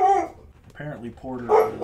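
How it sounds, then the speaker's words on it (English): A dog with some Rottweiler in him barks a few times close by, mixed in with someone talking over it. "I apologize for the barking."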